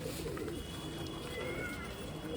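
Faint pigeon coos rise from a steady, hissy background in a pigeon keeper's loft, low murmuring calls with no clear voice over them.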